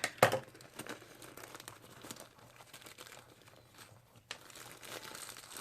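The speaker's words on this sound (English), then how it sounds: "So now I just want to cut open these bags of sand." Plastic bags of sand crinkle and rustle as they are cut open, with a sharp crackle at the start followed by quieter, scattered crumpling up close.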